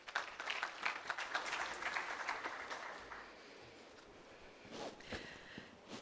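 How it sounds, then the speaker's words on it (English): Applause from a business summit audience in Islamabad, a moderately quiet patter of clapping that swells early, tapers off in the middle, then picks up again with a few sharper claps and footstep-like knocks. "One round of applause, please, folks."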